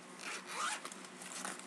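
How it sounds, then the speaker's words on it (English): The zipper on the main compartment of a Smiggle Puffermesh pencil case is pulled along its track, giving a close, quick, raspy zipping sound of under two seconds. "in the main compartment, which there are two zippers"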